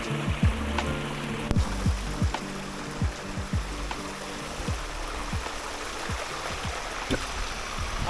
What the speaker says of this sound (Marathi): थोडं आपण उकळायलाच ठेवू आपण त्याला.